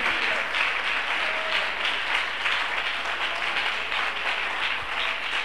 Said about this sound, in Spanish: Dele ese aplauso a Jesucristo en esta noche